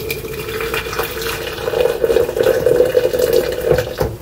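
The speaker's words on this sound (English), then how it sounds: "now pour the water in the French press." Boiled water poured into an IKEA French press for coffee, a close, loud, bubbling stream filling the glass carafe, rising in pitch and strength before easing off at the end.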